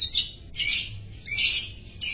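A female lovebird gives four sharp, high squawking calls in quick succession, close and fairly loud, with brief pauses between the calls and no talking.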